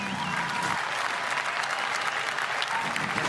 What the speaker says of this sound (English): Fans already giving a round of applause